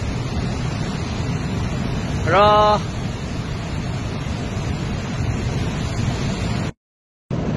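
Swollen Teesta river rushing after heavy rain near Gangtok, North Bengal: a constant loud roar of churning floodwater with wind buffeting the microphone, a brief voice heard over it partway through before a short dropout.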